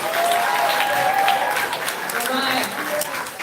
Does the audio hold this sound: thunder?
no